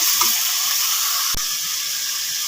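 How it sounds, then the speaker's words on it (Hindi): Mutton frying on a high flame for Peshawari karahi, a loud steady hiss of hot oil and sizzle that carries on unbroken, close by. "तो हाई फ्लेम पे हम लोगों ने मटन को तकरीबन 1 से 2 मिनट पहले ऐसे ही फ्राई करना है।"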